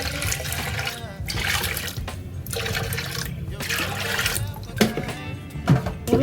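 Water poured into a cooking pot with a little salt already added, in a home kitchen; splashing pours arrive in several bursts separated by short pauses, fairly close and moderately loud.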